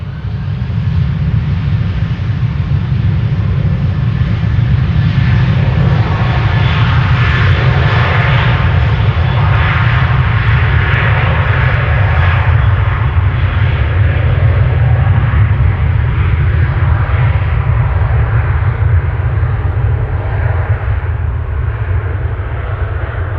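A ten-year-old Airbus A330-300 bound for Istanbul roars steadily at full takeoff thrust at Amsterdam Schiphol, a loud, sustained, broadband engine rumble that holds throughout without pause.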